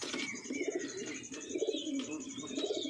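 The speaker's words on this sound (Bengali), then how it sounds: "এই হচ্ছে আইস কোয়ালিটি পায়রা" Ice-quality pigeons coo softly and repeatedly, a steady, low, rolling murmur close by with no talking.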